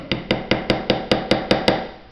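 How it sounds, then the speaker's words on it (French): A hammer drives a nail through a pressure-type nail guide, giving nine sharp, evenly spaced taps at about four per second, close and clear with nothing else heard. "à voir si je fais avec le marteau un petit peu"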